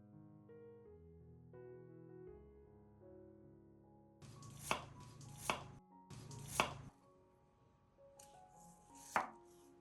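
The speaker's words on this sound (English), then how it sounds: "take 1 small onion and dice it into small cubes" A knife dices a small onion into small cubes on a board, with a handful of sharp, distinct chopping knocks spaced irregularly after a stretch of quiet background tones.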